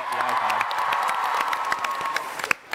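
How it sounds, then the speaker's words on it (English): Audience applause and cheering at a TwitchCon panel, a dense crowd clapping steadily for a few seconds with a sharper single clap near the end before it fades. "That was a loud clap."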